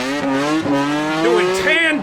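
A fuel tank truck doing tandem burnouts, loud screeching tire squeal with a high revving engine whose pitch sweeps and wavers throughout, close and continuous, with a voice talking over it.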